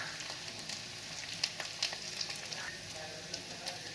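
Bhetki fish frying in oil with coriander and chilli powder as it is stirred, a continuous gentle sizzle broken by light scraping clicks, close and moderately quiet, no talking.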